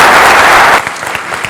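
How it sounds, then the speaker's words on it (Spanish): Conference audience gives a short burst of loud, dense applause that cuts off abruptly partway through, leaving scattered faint claps and room noise. "un aplauso por favor"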